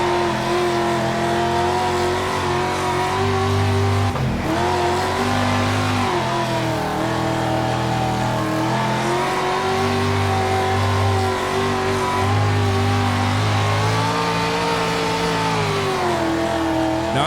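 Street stock dirt race car engine in World of Outlaws Dirt Racing, played on a wheel, a loud sustained roar rising and falling with throttle, briefly cutting out once before revving hard again, with no talk.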